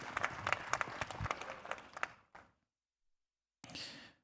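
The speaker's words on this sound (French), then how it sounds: "Oui, applaudissez pour elle." An audience applauds at a French-speaking event, dense clapping with a few louder claps for about two seconds, a brief burst, a silence, then a short spell of renewed clapping.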